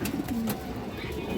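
Pigeons cooing near a pure red Chila female pigeon, a full-crested old-line bird, with soft low repeated coos over a steady background murmur.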